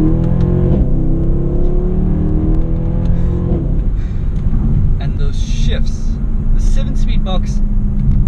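Mercedes-Benz C63 AMG Black Series V8 engine revving hard and loud through gear shifts, the pitch climbing and dropping with each change under a steady low rumble, with someone talking over it.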